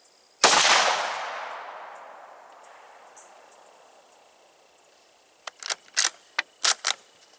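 A single loud rifle shot is fired at an outdoor range while a scope is being zeroed at 100 yards, its blast decaying over a few seconds, then a short series of light metallic clicks and rattles nearby.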